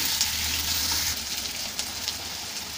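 Chopped tomatoes frying with onions in hot oil, a loud dense crackling sizzle that holds steady and close throughout with no voices.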